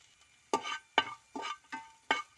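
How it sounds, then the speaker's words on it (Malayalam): Cooked jackfruit being stirred into a crushed coconut mixture with turmeric in a pan, five soft, separate scraping strokes at a steady pace, quiet and close with no voices. "ചക്കയും തേങ്ങാക്കൂട്ടിലേക്ക് ഇട്ട് കുറച്ച് മഞ്ഞൾപ്പൊടി ഇട്ടു അതിന് ഒന്ന് ഇങ്ങനെ ചെറുതായിട്ടൊന്ന് ഒടയാണ്ട് ഇളക്കി കൊടുക്കുന്നുണ്ട്"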